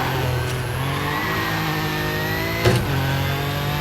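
Toyota rally car engine running steadily at speed on a championship stage, a loud continuous drone with turbo whine throughout and a brief sharp burst near the end.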